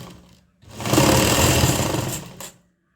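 Sewing machine stitching a saree blouse runs in one steady burst of about two seconds, loud and close, with a brief pause and quiet motor hum before and after.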